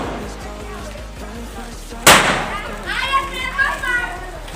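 A single loud firecracker bang bursts out during a Diwali celebration, standing out sharply over a steady rhythmic ticking background, followed by voices and children chattering.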